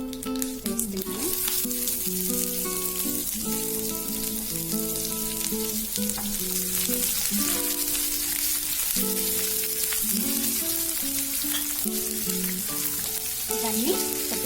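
Sliced onions, dried red chillies and a little garlic fry in oil, giving a steady close sizzle with soft crackles and occasional stirring throughout, with no talking.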